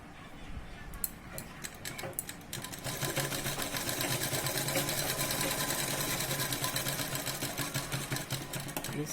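A sewing machine stitches a princess-cut blouse, starting after a few clicks and then running in a sustained fast rattling whir up close for several seconds.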